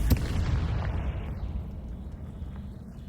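A Confringo spell explosion bursts in Hogwarts Legacy with a sharp, loud blast at the start, then a long rumbling boom that slowly dies away.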